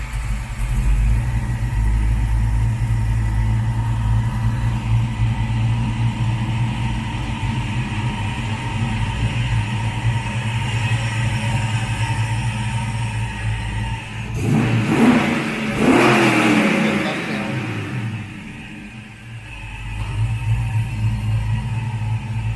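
A 1967 El Camino with a 6.0 LS swap and roughly 500 horsepower sits with a deep, loud, rumbling idle, then swells in one throaty rev before settling back to its low, steady burble.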